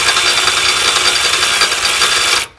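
A ratchet with a 14 mm socket spins rapidly while removing rear axle bolts on a Honda S2000, giving a continuous close clicking whir that cuts off abruptly at the end.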